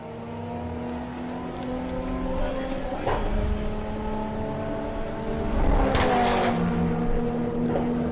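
A VW Thunderbug and an Audi TT drag race at Santa Pod with loud, droning engine tones that climb in pitch as they accelerate, with a burst of roaring noise near the end.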